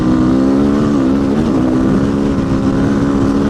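A motorcycle runs at speed around 70 in fifth gear, producing a loud, steady engine drone with a constant rush of wind close to the rider, unbroken for the whole stretch.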